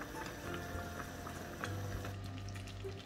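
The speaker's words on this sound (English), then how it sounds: "now that you can see that the water has come to a boil" Water at a rolling boil in a cooking pot as pieces of chapati are added for chakolya, a faint, steady bubbling hiss with soft ticks and occasional small splashes, no voices.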